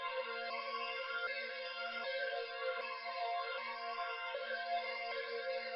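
Pitched-up trap melody sample in FL Studio, treated with hyper chorus, 3D phaser, stereo widening and compression, low end cut; a steady, thin, shimmering tone with faint regular pulses, moderately quiet and alone.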